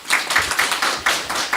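Audience applause at a Jeju provincial council committee debate forum, a short burst of brisk, evenly spaced hand claps, fairly loud and close.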